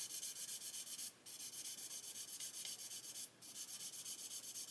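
Sandpaper rubs a raised panel on a plastic 1/48 Airfix Sea King model kit in quick, even back-and-forth strokes. The sound is close and soft, broken by two brief pauses.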